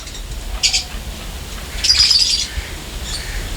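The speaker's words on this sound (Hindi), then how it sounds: "ये भी हमें यहाँ पे पेयर नज़र आ रहा है चकोर का, एक मेल और एक फ़ीमेल है।" A pair of chukar partridges, one male and one female, in a breeding cage on a farm near Karachi, giving a few short high chirping calls, including one longer call, moderately close against a low background rumble.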